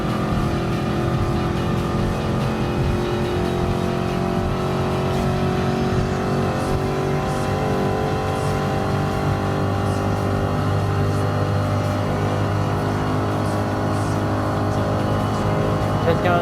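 Race car engine in Gran Turismo Sport on the final lap, a steady loud drone with layered harmonics and rising pitch held throughout.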